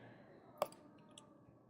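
A single quiet mouse click in a game editor while setting up a player character, one sharp tap against faint room hiss.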